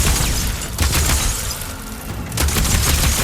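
Gunfire in Horizon Forbidden West, loud rapid bursts of shots with booming impacts, a short lull in the middle, then another volley.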